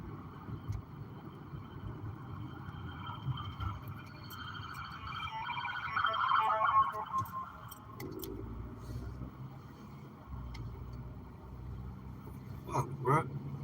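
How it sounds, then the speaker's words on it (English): An ambulance siren rises faintly behind a car on the road, swelling to its loudest about midway and then fading, mixed into steady road rumble and cabin noise. "ambulance behind me, let them"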